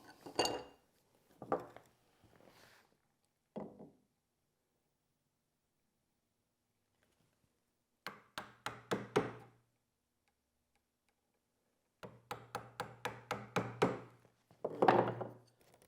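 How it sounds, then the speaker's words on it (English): A wide chisel pares wood toward a layout line inside a slot in a Greene & Greene picture frame, giving bursts of short, crisp, close taps and scraping strokes separated by quiet pauses. "Then I can come in with the wider chisel, registering off the edge of the slot, and work my way to that layout line"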